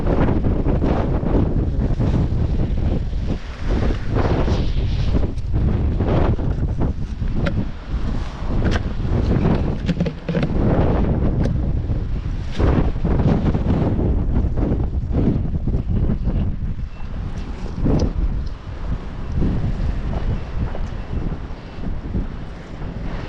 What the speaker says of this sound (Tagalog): masyadong malakas po yung hangin doon sa kabila